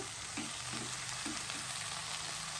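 Ingredients including potato pieces frying in a pan for coconut rice, a continuous loud crackling sizzle with a few soft bubbling pops, close up and steady, no voices.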